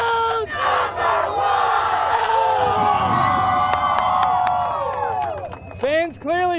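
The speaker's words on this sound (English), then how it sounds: "Fans clearly fired up here tonight, ready to cheer on their team." A crowd of sports fans at an airport cheers, whoops and chants loudly in unison, with shouted voices rising and falling and sharp whistles near the end.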